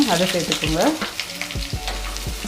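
Long-sliced onions and fenugreek seeds fry in hot coconut oil for a Kerala fish curry with coconut milk. A steady close sizzle runs throughout, with a voice speaking briefly over it at the start.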